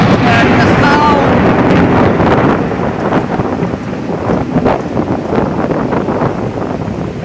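Wind blowing hard against the microphone at a home during a lightning storm, a loud steady rushing roar that eases slightly after the first few seconds.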